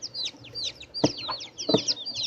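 Chickens, including young chicks, make a busy stream of high, sweeping peeps and chirps, with a few lower clucks breaking through at intervals, close by and fairly loud.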